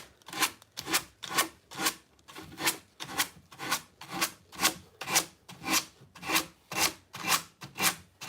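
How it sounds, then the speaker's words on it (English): Sandpaper rubs back and forth along the edge of a wooden furniture piece, about fifteen even, rhythmic rasping strokes roughly twice per second, close and moderately quiet, with no talking. "I'm just going to go ahead with my sandpaper and see if I can go ahead and take the edge off."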